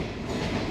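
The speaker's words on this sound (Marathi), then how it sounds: "ट्रेनची स्पीड बघा किती स्लो आहे" A slow train on the Konkan railway route, steady rolling rumble and rail noise heard from onboard, loud and continuous for a brief moment with no voices.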